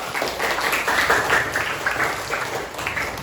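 A classroom group claps together in a brisk, patterned rhythm, the close, bright claps rising and falling in short bursts.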